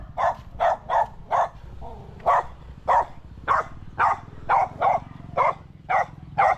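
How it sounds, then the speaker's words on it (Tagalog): Dogs bark in a steady series of sharp, loud barks, roughly a dozen, spaced evenly over a low background rumble. "Ayan, sasalubuhin kayo ng mga aso."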